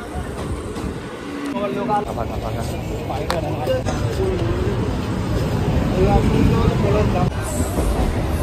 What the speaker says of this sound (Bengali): ট্রেন এসে গেছে, ট্রেনে উঠি